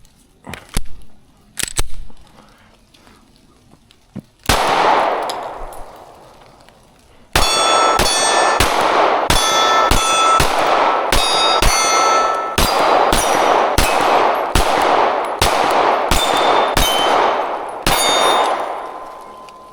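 An MC9 Prime pistol fires a full 17-round magazine after a few scattered earlier shots, each a sharp, loud crack with ringing metallic echo, the rounds coming in a quick, steady rapid string.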